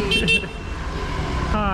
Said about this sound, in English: Always honking, always honking.